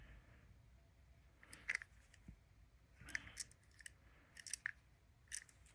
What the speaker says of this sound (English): we're going to cut this to length, and we're going to install